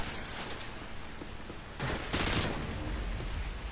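Rapid bursts of video game gunfire laying down suppressive fire, a steady crackle that swells into louder volleys near the middle before settling back, with no talk over it.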